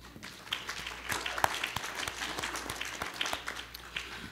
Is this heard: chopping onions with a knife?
no